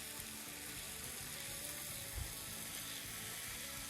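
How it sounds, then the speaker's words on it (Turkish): Chopped tomatoes sizzle steadily in a hot pan while being stirred for imam bayıldı, a constant low frying hiss with a soft scrape of the spoon midway and no talking. "küçük küçük kestiğim domatesleri de bu oyunun içine dahil ediyorum. Şöyle bir karıştıracağım."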